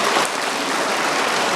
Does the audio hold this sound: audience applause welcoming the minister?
yes